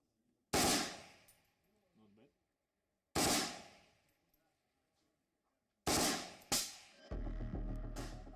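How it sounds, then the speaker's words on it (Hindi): AK-203 rifle firing on full auto outdoors: four loud, sharp bursts separated by gaps, each followed by a long echoing decay, the last two close together, then a low steady hum. "एक बार फायर ट्रिगर दाबने के बाद ये लगातार फायर करेंगे।"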